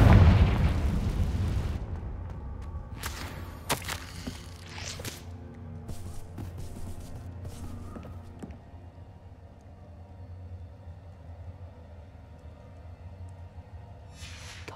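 A Confringo spell explosion in Hogwarts Legacy, a loud booming blast at the start that decays into crackling debris, sharp pops and a fading rumble.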